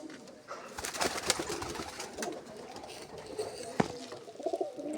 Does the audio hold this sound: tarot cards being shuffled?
no